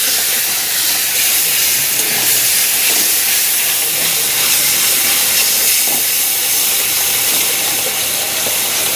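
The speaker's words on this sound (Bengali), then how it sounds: "এবার মশলাটা কষা হচ্ছে" Spice paste frying hard in hot oil in a pan for rohu fish kalia, a loud, steady, dense hiss of sizzling that holds unbroken and close throughout.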